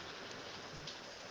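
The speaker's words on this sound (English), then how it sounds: "Sorry, the rain is cutting me off." Steady rain hisses as a continuous, even wash of noise through an online call's microphone, loud and close with no voices over it.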